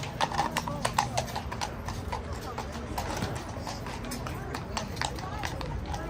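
A Royal Guard horse clip-clops in a steady, fairly close run of hoofbeats, continuing under a voice talking throughout.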